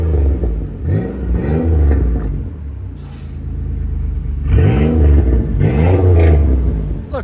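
A 2008 Chevy Impala 3.5L V6 with a Flowmaster Super 40 exhaust and resonator delete revs hard outside, giving loud, deep rising and falling roars in two bursts separated by a rumbling idle.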